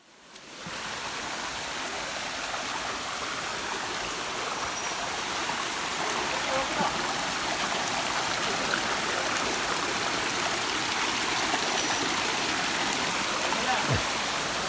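Steady rushing water of a small waterfall and stream, a continuous broadband roar at even loudness throughout, with no voices.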